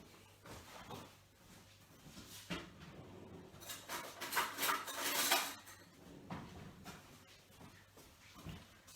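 A clean spoon clinks and scrapes among dishes and cutlery in a home kitchen while a yogurt cake is being made, with a denser burst of metallic clatter midway and no voices.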